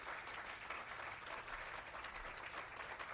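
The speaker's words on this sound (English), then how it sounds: "That's worthy of applause." Applause breaks out at a mayor's weekly press briefing, steady moderate clapping from a small audience heard fairly quietly and evenly for about three seconds.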